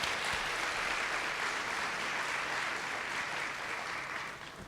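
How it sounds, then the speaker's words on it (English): An audience at a workplace leadership event claps in sustained, dense applause at moderate loudness, tapering slightly at the end, with no speech over it. "Why don't we give Muriel a round of applause?"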